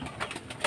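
A racing pigeon coos softly in a loft, giving a brief, low, rounded call that swells slightly near the end, with faint background noise.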